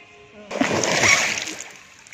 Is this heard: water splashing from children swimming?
yes